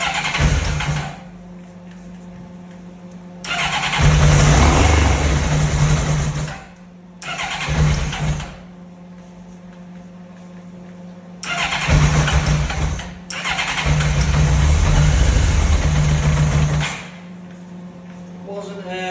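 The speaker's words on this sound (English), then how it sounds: "Wasn't unexpected for Honda to fire up after being stored for many years." A Honda CBR 1100 Blackbird motorcycle, long stored, fires up in loud bursts of running and revving separated by quiet gaps, the engine close and dominant with steady background hum between.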